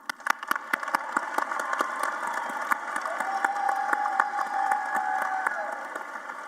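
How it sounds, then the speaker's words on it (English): Audience applause with crowd cheering at a high school graduation ceremony, a steady dense wash of clapping lasting throughout with scattered louder claps and a faint sustained tone partway through. "Let's give another round of applause to these leaders."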